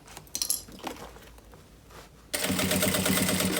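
A sewing machine stitching a backpack: a few light clicks and handling sounds, then a steady, close, rapid mechanical whirring of stitching for the last second or so.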